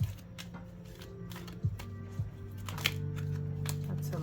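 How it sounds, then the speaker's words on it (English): Tarot cards shuffled by hand during a reading, a series of soft papery riffles and taps at close range, quiet and intermittent against a low room hum. "I want to continue shuffling."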